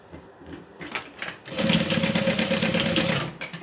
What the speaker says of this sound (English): You can actually just sew it down with about 3/4 of an inch webbing off.